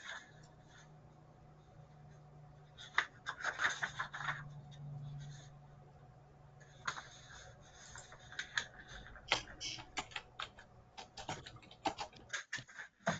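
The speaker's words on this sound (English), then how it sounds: "I'm shuffling paper, so I'll find it if I'm lucky." Quiet, scattered rustles and soft taps of paper being shuffled near a microphone during an online support-group call, in irregular bursts with no talk over them.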